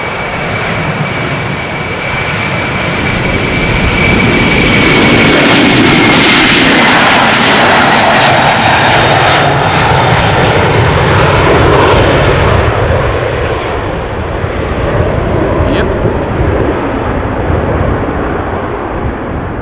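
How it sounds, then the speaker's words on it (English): A Boeing 767-300ER jet rolls for takeoff at an airport, a loud sustained roar with a high whine sliding downward, close by and unbroken for the whole stretch. "Boeing 767-300ER off to Frankfurt. So unless she is very heavily loaded, expect a short takeoff roll."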